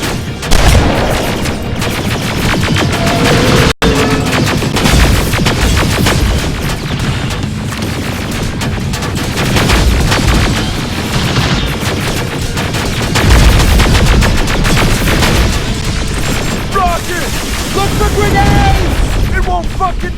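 Rapid gunfire and heavy booms from a firefight in Terminator: Resistance play loud and nearly nonstop, with dense crackling bursts and shouted voices mixed through the battle.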